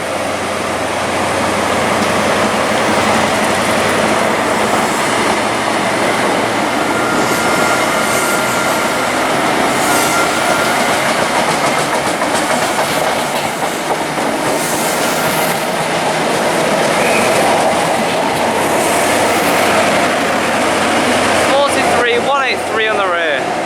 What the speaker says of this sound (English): As well as now we have the class 43 bound for London Paddington.